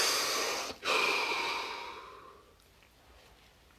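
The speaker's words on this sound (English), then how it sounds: "Deep breath." A single slow, deep breath taken during a relaxation exercise, a long airy inhale followed by a soft exhale that fades away, close to the mic with no talking.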